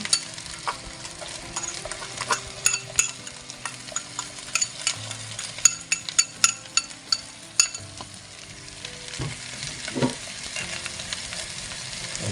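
Onion sizzles in a cast-iron cocotte alongside rabbit legs, a steady frying hiss broken by clinks and scrapes of a utensil stirring, close and fairly loud.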